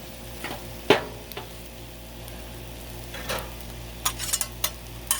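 Steak fried rice sizzles on a Blackstone griddle with a soft continuous frying hiss, broken by sharp scrapes and metallic clinks of a spatula against the flat top.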